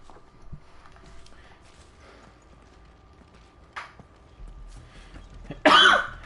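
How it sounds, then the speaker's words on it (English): A gaming streamer gives a single loud, harsh cough near the end, after quiet low background sounds during a Final Fantasy XVI session. "Premium Cough content."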